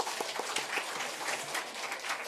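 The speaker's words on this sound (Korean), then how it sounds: "박수 한번 쳐드리시죠." A church congregation at a Sunday service claps together in a brief, lively burst of applause, dense overlapping hand claps filling the room.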